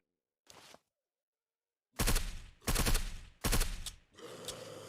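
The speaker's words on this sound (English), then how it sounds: "the gunfire's coming from my left" Gunfire in the video game Surroundead comes as a short muffled burst, a pause of silence, then three loud rapid-fire bursts and a lingering rumble close by.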